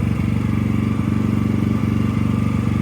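A 5.5 kW inverter generator engine runs steadily nearby, a loud, even, buzzing drone with a fast regular pulse and no talk over it.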